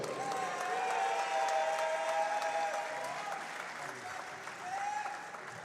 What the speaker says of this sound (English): Put your hands together for Bruno Bravo.